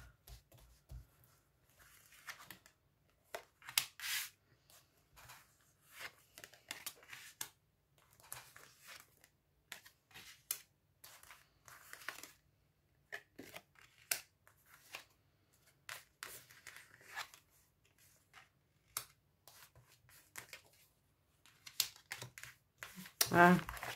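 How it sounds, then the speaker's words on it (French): Tarot cards spread out on a table, giving a run of soft, scattered card slaps and slides in quick irregular bursts, fairly close and quiet, with brief talk in between. "Je vais étaler les cartes."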